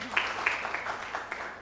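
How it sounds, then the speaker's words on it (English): Participants at a regulations review meeting clap for Paul, a short burst of scattered, uneven hand claps in a room, fairly close and moderately loud, with faint voices underneath. "Let's clap for Paul."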